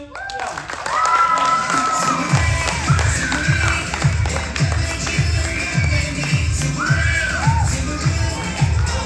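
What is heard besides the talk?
audience applause and cheering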